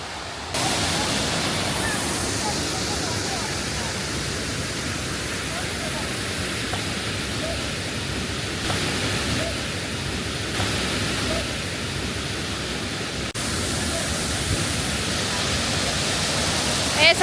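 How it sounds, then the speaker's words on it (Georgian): Lomina waterfall in Khoni roars steadily, a broad, constant rush of falling water heard close and fairly loud throughout, with a person speaking over it. "ეს არის ლომინას ჩანჩქერი"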